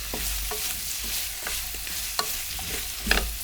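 Braised Korean potatoes and green onion being stir-fried in a pan, with a soft continuous sizzle punctuated by scraping stirs and utensil taps against the pan at irregular intervals, close by.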